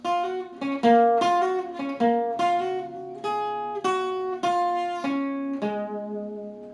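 The opening part of an electric guitar solo rings out alone as a clean, close melodic line of distinct picked notes, some held and sustained, at a steady pace.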